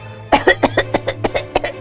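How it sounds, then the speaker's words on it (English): A voice acting as the wolf in a Little Red Riding Hood reading gives a fake cough, a close, loud burst of about ten rapid rhythmic coughing pulses lasting under two seconds. "as he added a cough at the end to prove the point"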